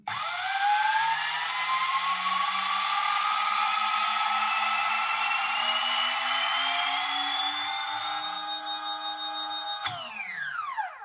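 A 30HP dual-motor RC car, each ESC on its own 3S LiPo, winds up at full throttle: a loud, steady electric whine climbing in pitch for about ten seconds, then cutting off abruptly with a falling spin-down.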